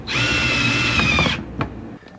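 A power drill drives screws while fitting a Molle panel into a Jeep XJ interior: one sustained high whine for over a second, then it stops and a couple of short clicks and knocks follow.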